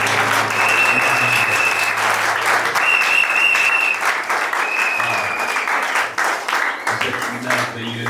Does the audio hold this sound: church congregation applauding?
yes